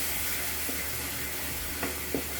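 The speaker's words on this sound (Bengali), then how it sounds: "এগুলোকে আমি ভালোভাবে কষিয়ে নেব" Spices with turmeric, chili powder, salt and a little water sautéing in a pan: a steady, soft sizzle and hiss throughout, with a couple of faint utensil scrapes near the end.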